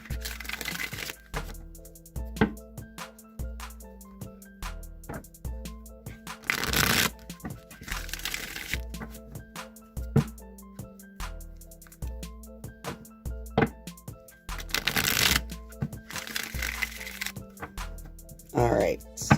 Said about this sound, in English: I'm going to go ahead and shuffle the Rider-Waite deck now